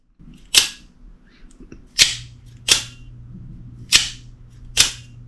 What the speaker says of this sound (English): it has a definite springy sound when the blade deploys